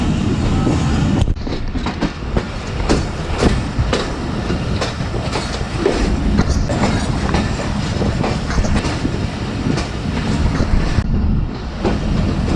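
Jaffer Express passenger train rolling into Jhelum station, with a steady loud rumble and clattering wheels on rail joints heard from on board, plus some wind buffeting, sustained throughout.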